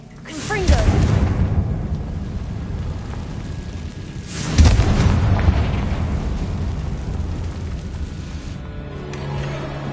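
Confringo fire-blast spell from Hogwarts Legacy bursting twice, each a loud whooshing boom followed by a rumbling fiery tail, with faint game ambience underneath.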